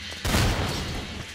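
A gunshot in the game Garry's Mod, Trouble in Terrorist Town mode: one booming blast with a rumbling tail, moderately loud and alone.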